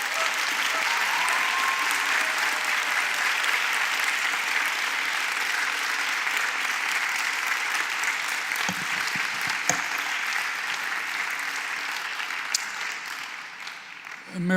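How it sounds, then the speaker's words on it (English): Sustained applause from the audience at a college baccalaureate service honoring the graduating class, a dense, steady wash of clapping that holds loud throughout and tapers slightly toward the end. "So a round of applause for the class of 2021."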